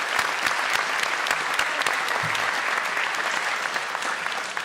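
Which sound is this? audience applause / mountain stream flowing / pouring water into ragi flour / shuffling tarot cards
audience applause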